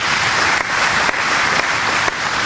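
Sustained applause from a banquet audience, steady and dense clapping filling the room throughout, with a few slight dips in intensity.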